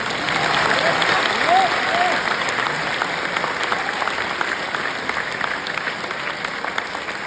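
An audience claps at a kavi sammelan poetry event at IIT Ropar, a dense burst of applause that is loud at first and then thins out, with a voice speaking over it early on.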